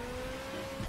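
Ferrari F40 engine in the racing game The Crew, a steady sustained drone holding one pitch, slightly louder near the end, with no talk over it.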